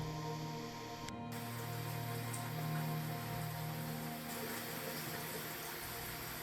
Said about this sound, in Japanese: パラパラ雨が降り始めましたが、気にせずお昼寝することにしました。